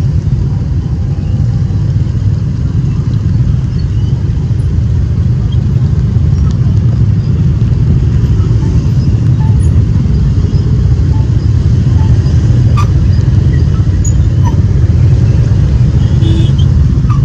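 Heavy rush-hour traffic jammed at a roundabout corner in Nha Trang, with cars and motorcycles idling and creeping forward in rain, a steady low rumble of many engines held close throughout, and occasional faint voices.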